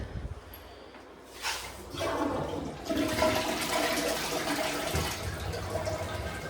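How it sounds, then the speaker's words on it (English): A toilet in an updated two-bedroom Logan Square apartment flushes with a rising rush of water that swells after a second and settles into a steady, close-up gurgling refill, alone with no talk. "Okay, that's flushing a little bit now."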